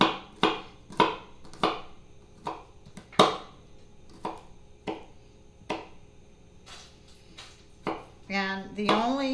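A knife chops garlic cloves on a cutting board in a kitchen, a run of sharp, close, evenly paced taps that slows toward the end, followed by a brief voice.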